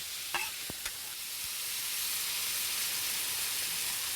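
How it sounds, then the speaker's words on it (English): Vegetables hitting hot vegetable oil in a pan for a Mexican egg scramble, giving a sharp initial crackle that settles into a steady, bright, hissing sizzle heard up close. "I get some vegetable oil into the pan, and right away get the vegetables in"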